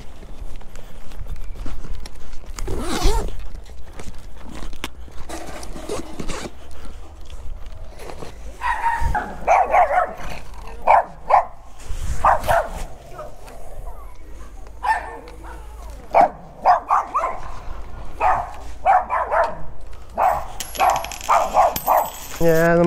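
A small mongrel dog barks in a run of sharp, repeated yaps beneath steady street noise and footsteps, with someone talking in between.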